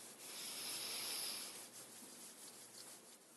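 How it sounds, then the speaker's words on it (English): Palms rub together steadily during a gentle Kundalini yoga session, a soft continuous dry swishing lasting a few seconds, close and quiet with no talking. "Rub the feet, palms together."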